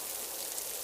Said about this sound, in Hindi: बहुत तेज बारिश होने के कारण पक्षियों के बने हुए घर टूट जाते हैं